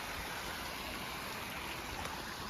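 A trail-side stream keeps flowing with plenty of water, a steady close rushing wash with no voices.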